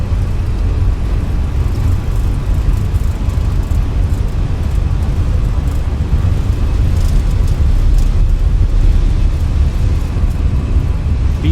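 Simulated Airbus A320 engines roar at takeoff thrust during a departure from Hurghada, a loud, continuous low rumble with a broadband hiss that holds steady throughout.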